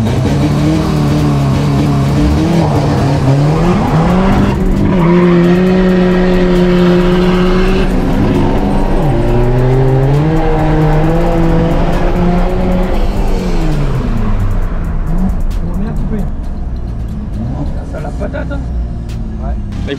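Modified BMW 140i tuned to over 340 hp, engine revving hard and rising and falling in pitch through repeated pulls, loud and close, with someone talking over it.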